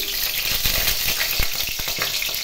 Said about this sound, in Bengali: তেল গরম হয়ে গেছে, এর মধ্যে 2টি কাঁচা লঙ্কা ফোড়ন দিলাম